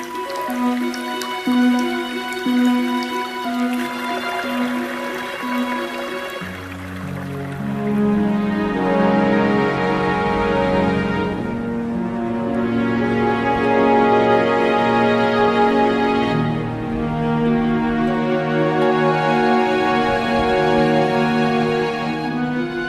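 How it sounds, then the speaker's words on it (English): Spring meltwater trickles and drips in the mountains, a continuous close patter of drops over a murmuring flow, steady and fairly loud, with no voices. "The trickle and murmur of water is everywhere."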